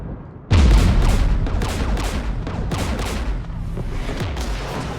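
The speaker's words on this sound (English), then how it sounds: "We're taking fire." Heavy gunfire pelting a shuttle in Mass Effect 3, opening with a sudden loud boom, then continuous rattling impacts and bursts close by, easing slightly near the end.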